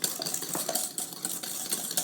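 A spoon scrapes and clinks steadily around a bowl as chocolate cake frosting is stirred, a close, continuous rhythmic swishing with light metallic taps and no voices.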